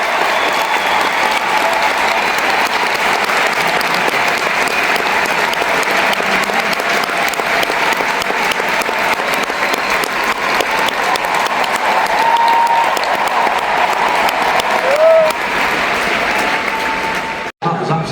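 An arena crowd in Manchester breaks into loud, sustained applause after a musicals performance, dense clapping and cheering holding steady for many seconds before cutting off abruptly at the end.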